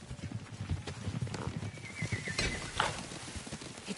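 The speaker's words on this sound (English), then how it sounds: "Horses, they're coming for us." Horses clip-clop in a rapid galloping rhythm in a medieval Japanese game, hooves drumming steadily at mid distance with a brief whinny partway through, no voices over the hoofbeats.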